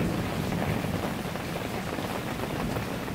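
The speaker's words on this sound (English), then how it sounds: "You can tell by the thunder." A sudden summer downpour over Peterborough, with dense steady rain and a low rumble of thunder underneath, a continuous wash of sound with no talking.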